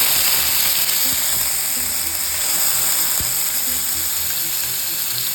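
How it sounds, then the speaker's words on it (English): Chicken pieces fry in a very hot oiled pan for butter chicken, a loud, steady crackling sizzle up close with occasional pops and ticks, no voices. "You hear that? That's a perfect sizzle."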